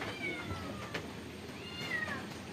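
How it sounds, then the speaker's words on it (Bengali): A kitten meows twice outdoors, thin rising-and-falling cries about a second apart, fairly faint against a hiss of rain-like background noise. "একটা বিড়ালের বাচ্চা ম্যাও ম্যাও করতেছে।"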